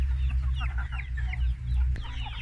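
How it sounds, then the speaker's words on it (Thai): Chickens on a laying-hen farm that lay white eggs keep up a busy chorus of overlapping clucks and short calls, near and fairly loud, over a steady low hum. "ไก่เยอะนะครับช่วงนี้ ออกไข่ดี"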